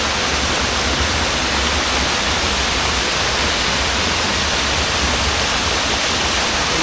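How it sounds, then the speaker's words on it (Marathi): Panwal waterfall pours with a steady, dense roar of rushing water, loud and constant throughout with no voices. "हा बघा, हा असा धबधबा आहे."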